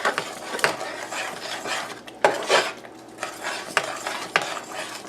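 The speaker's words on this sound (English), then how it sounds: "I'm just going to dump those right in and give that a stir" Seasonings stirred into a pot of New Orleans style shrimp etouffee, a utensil scraping and clinking against the pot in repeated close strokes, with a few sharper knocks.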